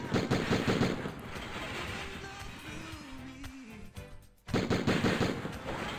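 Rapid automatic gunfire in an online shooter game, with rounds fired through yellow penetrable walls; dense bursts come loud and close, drop into a brief lull, then resume in heavy rattling volleys.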